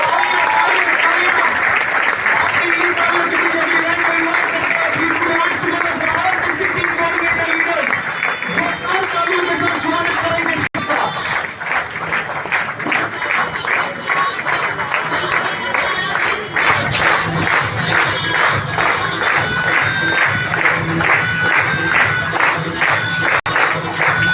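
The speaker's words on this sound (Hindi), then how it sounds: "तालियां बजनी चाहिए।" Loud, sustained applause from a crowd filling a stage at a marketing company event, with dense clapping throughout and voices mixed in beneath it.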